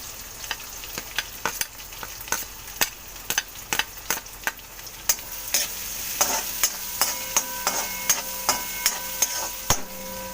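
Chopped onion and green chilli fry in a pan for an Indian-style masala pasta, a steady close sizzle broken by regular sharp taps and scrapes of a stirring spoon against the metal, with no talk.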